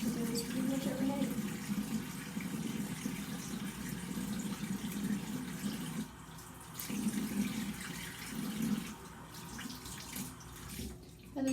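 Tap water runs steadily into a bathroom sink during a nightly face-washing routine, a continuous close splashing hiss that briefly dips and returns.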